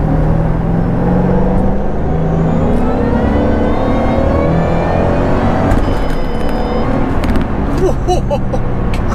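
A 2008 Shelby GT500 with a 500-horsepower engine accelerates hard, its loud engine roar rising steadily in pitch through the gears with a heavy rumble, close and continuous from start to finish.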